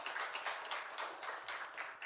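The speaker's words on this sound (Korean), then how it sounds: "우리 하나님께 영광의 박수 올려드리겠습니다." A church congregation at a Sunday worship service applauds together, a steady wash of many hands clapping at moderate distance, continuous and even throughout.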